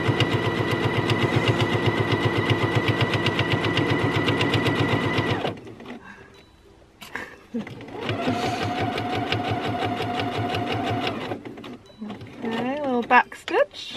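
Sewing machine stitching cotton fabric for a bag, a steady rapid mechanical whirr running in two long bursts separated by a brief pause, close and fairly loud, with a little voice near the end.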